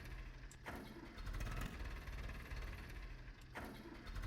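Farming Simulator 22 vehicle engine cranking repeatedly without catching, a steady low churning broken by short pauses, fairly faint and alone.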